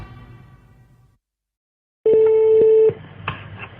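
A telephone being dialed to call the police: a steady tone followed by short keypad beeps, after a moment of silence and some faint sound at the start.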